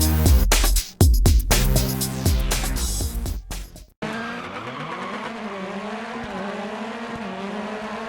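Rally car in the racing game Dirt Rally sliding with tyre squeal and a loud engine, followed after a sharp cut by a steadier, revving engine drone with skidding tones.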